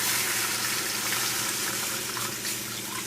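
Water poured steadily into a pot holding beef and red wine for braising brisket bourguignonne, a continuous close gushing splash with no talk.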